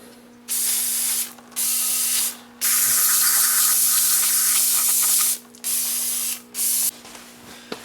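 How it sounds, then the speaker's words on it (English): Non-chlorinated brake cleaner sprayed onto the cleaned front brake parts of an 8th generation Honda Civic: loud, close hissing bursts of varied length, one long blast in the middle, separated by short pauses. "give it a shot with some non-chlorinated brake cleaner"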